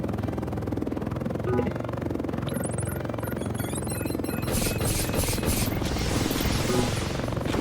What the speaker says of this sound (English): If you have a Super Hind, you want range, because you have a good lock on range.